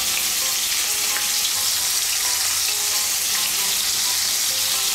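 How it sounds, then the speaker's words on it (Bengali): Cauliflower pieces frying in a pan with turmeric and salt, a loud, steady hiss of hot oil sizzling without break throughout. "নুন দিয়ে আমি ফুলকপিগুলো ভালো করে ভেজে নেব।"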